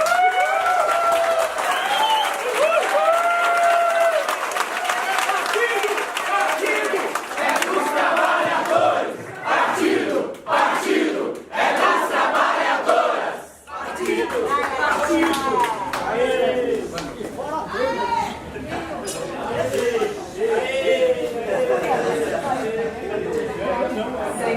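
Loud, sustained applause and cheering from a large crowd at a political party congress in Brazil, with shouts and chanting rising over the clapping throughout, briefly dipping in the middle before swelling again.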